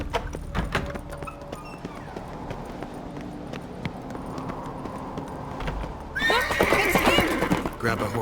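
A horse neighs and whinnies in The Witcher 3, its call rising loudly near the end over clip-clopping hooves and game ambience, with voices talking during the scene.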